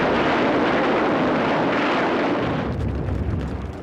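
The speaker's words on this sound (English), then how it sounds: "Every cave or dugout entrance had to be blasted by flamethrowers, grenades, and explosives" Explosives blast cave and dugout entrances in World War II Pacific fighting, a continuous loud roaring rumble of blasts that eases slightly toward the end.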